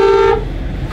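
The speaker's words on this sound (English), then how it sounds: "Oh, somebody's beeping at you." A single loud car horn blast, steady and sustained for a moment, then cut off, leaving low traffic rumble.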